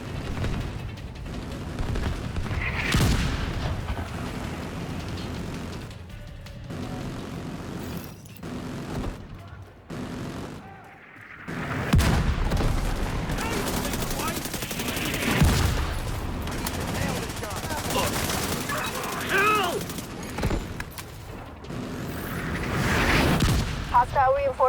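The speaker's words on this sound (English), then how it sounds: "The autocannon seems to be firing blind." Autocannon and mortar fire in the video game The Division 2, with heavy sustained bursts, booming impacts and rumbling explosions rising and falling in intensity, alongside voices talking through the battle.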